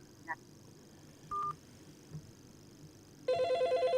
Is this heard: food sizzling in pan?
no